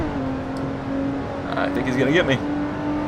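Shelby Cobra engine with a regular manual transmission revving in Assetto Corsa during a drag race start, a steady droning note that climbs and wavers as the car pulls away, loud under close voices.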